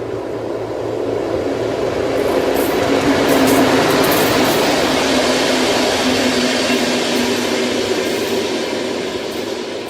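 A BM92 diesel multiple unit train arrives into Elverum Station on the Røros Line, its steady loud rumble and rolling rail noise filling the scene continuously, swelling slightly as it passes, with faint clicking of wheels over the track.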